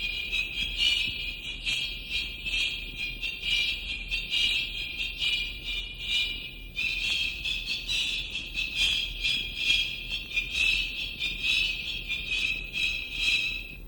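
Music played through a high-pass filter that removes everything below 2,000 cycles, leaving a thin, tinny, rhythmic chirping of bright upper tones, steady and moderately loud with no voices.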